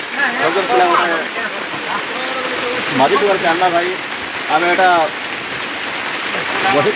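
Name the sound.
heavy rain in village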